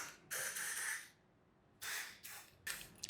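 Air hisses in three short bursts as a dirt bike tire on a Talaria Komodo electric bike is inflated, with brief pauses between the loud, close pumping blasts.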